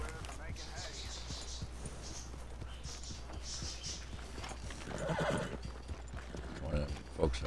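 A horse in Red Dead Redemption 2 whinnies amid steady clip-clopping hooves, with a louder neigh near the middle and a voice speaking over the scene.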